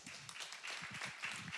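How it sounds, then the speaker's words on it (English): A brief, light smattering of claps from a few crew members, quiet and close, lasting only a moment. "Small round of applause from the crew for that."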